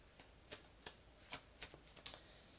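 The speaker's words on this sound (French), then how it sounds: "Alors, je vais étaler les cartes" Tarot cards are spread out across a table, giving a series of soft, crisp card snaps and slides at irregular intervals, faint and close with no talk.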